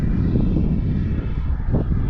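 Global Jet Club Hummingbird RC jet with an ACEx-80 turbine on a slow pass, a loud, steady turbine roar close by with gusty wind noise over the microphone.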